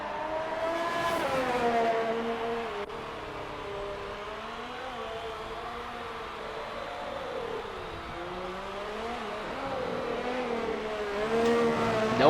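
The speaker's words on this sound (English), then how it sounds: "we watch DK Phantom and the remaining Ferrari continue to circle the track here onto that second long straightaway" Ferrari race cars lap a track in Abu Dhabi, engines droning steadily with shifting pitch as they run onto a long straightaway, the sound swelling louder near the start and end.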